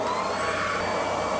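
A Lu Blue Lu cordless vacuum cleaner runs with a steady, close whirring motor drone and broad airy rush, unbroken for the whole short stretch, no voices.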